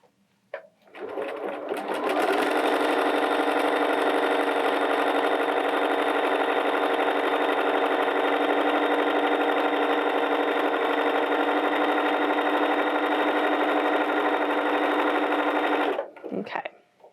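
A Bernina 325/335 sewing machine runs a dense satin zigzag stitch in one steady, fast, even whir lasting about fifteen seconds, then stops, with no talking over it.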